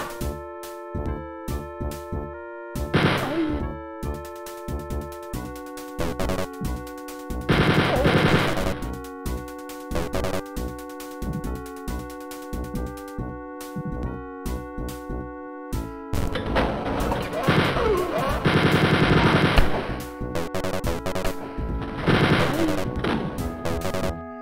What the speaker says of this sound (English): It's really kind of OP, running around with a minigun.